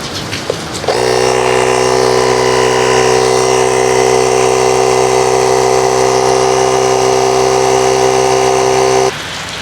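A small electric air pump runs steadily while inflating a Suzuki Smash motorcycle tyre after a tyre change. It starts with a click, then holds a loud, constant buzzing drone for about eight seconds before switching off.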